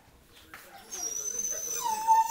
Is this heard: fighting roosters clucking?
no